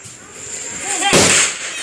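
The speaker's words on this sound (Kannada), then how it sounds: "ಈಗ ಪಟಾಕಿನ ಹೊಡಿತಿದ್ದೀವಿ. ಸೊ ಇದು ನಮ್ಮ ಏರಿಯಾದಲ್ಲಿ ಹೊಡಿತಿರೋದು" A Diwali firecracker goes off in a residential neighbourhood, one sharp, loud bang near the end over a faint background murmur.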